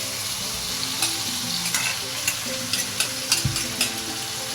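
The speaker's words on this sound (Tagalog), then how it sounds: "Pwede ko nang igisa ang iting munggo" Mung beans sauté in a hot pan for ginataang monggo, giving a steady close sizzle broken by repeated scraping stir strokes of a utensil against the pan, with no talking.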